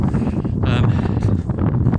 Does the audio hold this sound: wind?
yes